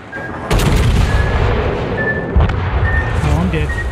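Ship cannon fire in a naval video game: heavy booming blasts, one early and another midway, rolling out into a continuous rumbling battle din, with a voice talking over it.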